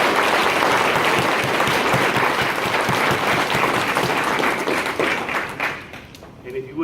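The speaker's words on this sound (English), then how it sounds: "we would ask everyone to give our cadets one last round of applause" Sustained audience applause for graduating law enforcement cadets at a BLET class ceremony, dense steady clapping filling the room before tapering off near the end.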